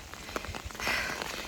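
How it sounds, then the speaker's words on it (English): Rain falling steadily on a soaked Appalachian Trail path in the Smokies, a soft hiss of drops close by, faint and continuous. "And it's still raining."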